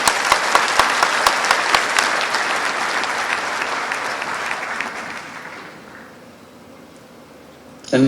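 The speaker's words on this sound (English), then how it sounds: "Let's give a big applause for going." Audience applause at a Social Business Day event, loud and steady at first, then thinning and fading out over several seconds.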